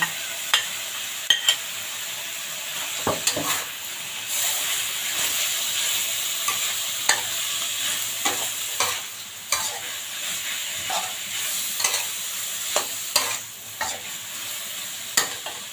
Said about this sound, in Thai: ผัดหมูพอสุกนะคะ หมูเราเริ่มจะสุกแล้วนะคะ